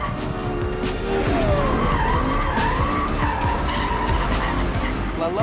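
A Lexus LFA with its Yamaha-built 4.8-litre V10 roars loudly and close, the engine note swinging up and down while tires squeal and skid throughout.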